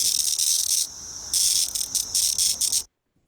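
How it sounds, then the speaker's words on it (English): A cicada held in the hand during a Kentucky emergence gives its distress call, a loud, close, harsh buzzing that cuts in and out in choppy bursts before stopping abruptly. "If you pick these cicadas up this summer, you will hear them make a distress call, which I think sounds very angry."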